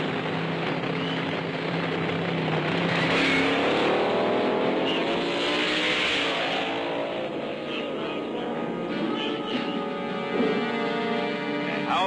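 A fuel dragster engine of over 1,000 horsepower in a roughly 1,000-pound car roars loudly and continuously at a drag race, its pitch sweeping up and down as it revs, near and dominant throughout.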